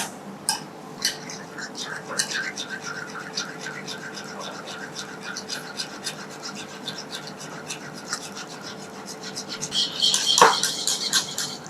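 A wire whisk stirs eggless lime curd in a bowl, making light, irregular scraping and tapping strokes that grow busier and louder toward the end.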